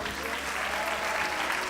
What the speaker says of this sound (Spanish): Levante un aplauso